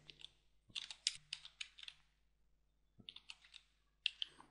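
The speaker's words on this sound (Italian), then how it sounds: "Ora non ci resta altro che digitare il testo." Typing text into a drawing program on a computer keyboard, with two quick bursts of soft, close key clicks separated by a short pause and nothing else around them.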